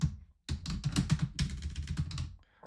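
Computer keyboard typing a name for an email listing alert, a close, dense burst of rapid key clicks after a brief pause, tapering off at the end.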